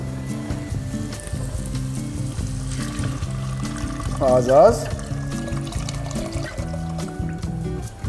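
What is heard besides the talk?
water poured into a pot for green pea soup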